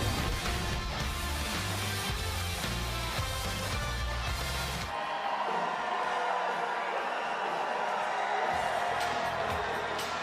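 A crowd at a PBA League Elias Cup bowling finals cheers and whoops loudly for the first half, then the roar drops away to lighter background noise.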